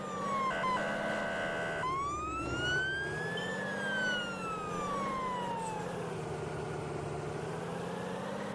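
Police car siren wailing up and down loudly and close throughout, with a steady engine rumble underneath, on a road during delivery of a prefabricated house.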